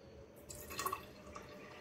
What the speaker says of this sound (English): first thing, I'm going to put 25 ml of water.